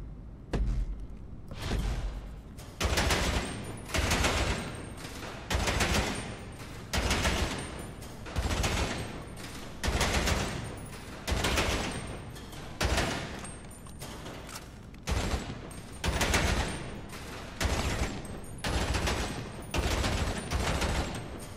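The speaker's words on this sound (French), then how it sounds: "la mitraillette fait un très bon bruit" Rapid submachine gun bursts in GTA Online, loud and close, firing in repeated volleys of a second or two separated by brief pauses, with heavy low thumps under each burst and no talking.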